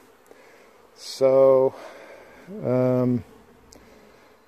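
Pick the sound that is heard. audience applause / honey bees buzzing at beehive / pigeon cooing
honey bees buzzing at beehive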